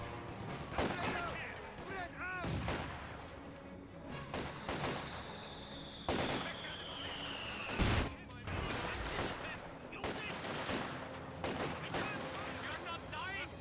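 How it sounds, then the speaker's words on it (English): Rapid volleys of small-arms and machine-gun fire crackle through a Company of Heroes 2 battle between Soviet penal squads, conscripts and German Grenadiers, with repeated bursts, a few heavier blasts and a voice talking over the combat. "Penal squad taking some fire."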